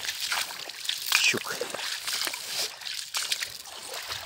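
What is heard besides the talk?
walking through a stream, water splashing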